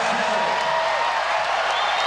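Volleyball arena crowd at a Rainbow Wahine women's college match cheering steadily after a big kill, a dense continuous roar of voices with no pauses.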